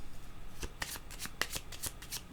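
A deck of cards is shuffled for a card reading, a quick run of crisp riffling snaps and flutters in close succession, fairly quiet and with no talking.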